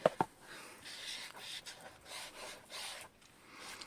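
Ink is dabbed onto sanded journal paper: two sharp taps open, followed by a run of soft, rhythmic scuffing strokes, close and fairly quiet, with no talking.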